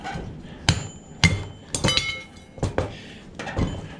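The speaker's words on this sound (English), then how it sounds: "I think the hammer cut that as I hit it." A hammer striking scrap metal from a ceiling fan, aluminum and die cast parts, in a series of sharp close blows, about six irregular impacts with ringing metallic tails.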